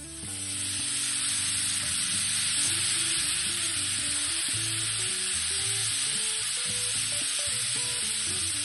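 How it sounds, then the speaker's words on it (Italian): Toasted rice sizzles loudly in a hot pan as white wine is splashed in, a dense steady hiss with scraping stirring underneath, close and continuous throughout. "Tostato il riso, sfumo con un po' di vino bianco."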